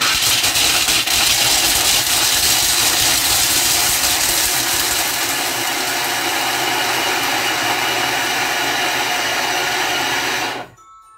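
A kitchen machine runs at speed 7, grinding chocolate for Ferrero-style rochers in a loud, dense, steady roar with rattling grit that cuts off abruptly near the end, no talking.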